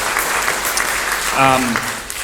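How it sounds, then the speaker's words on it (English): Crowd applause at a live country music show in a Nashville hall, steady clapping throughout with a voice briefly cutting in over it near the middle. "give them a nice round of applause"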